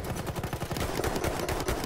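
Rapid gunfire in the Battlefield video game, a steady stream of close automatic shots cracking in quick succession for the whole stretch, dense and loud with no talk over it.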